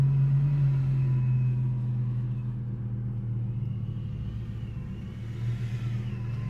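A supercharged Infiniti G35 engine runs close by with a loud, steady low rumble, its note rising and falling slightly as the revs shift.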